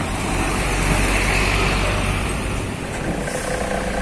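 Heavy loaded container trucks moving through the Rorotan area, a dense continuous diesel engine roar with road rumble and traffic noise, loud and close, with no talk.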